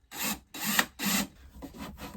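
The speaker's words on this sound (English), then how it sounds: "I'm screwing it into these holes, but with some force because there's no pre-drilled holes." A screw is forced into an IKEA Kallax shelf panel that has no pre-drilled hole. Close grinding, rasping strokes come in three long pulls and then shorter ones.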